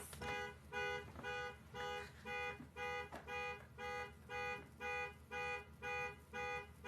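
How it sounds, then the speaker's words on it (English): A car alarm blares close by, looping a harsh electronic tone in steady on-off pulses, about ten even bursts in a row, loud and unbroken with no talk over it. "Hey, is anyone gonna shut their car alarm off, or nah?"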